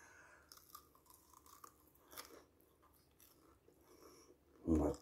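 Crunchy bites into a fried beef rib on the bone, with a few soft crackly chews scattered through quiet moments and one loud close crunch near the end.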